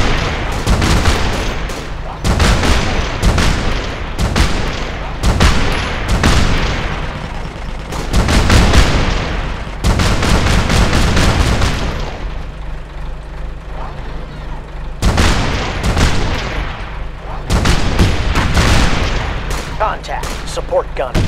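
Video game gunfire in Operation Flashpoint: Dragon Rising, loud rapid automatic bursts and single shots clustered in long volleys with short gaps, with radio-style voice callouts between them.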